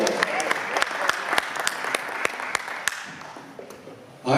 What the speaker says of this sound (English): Clap for Joel.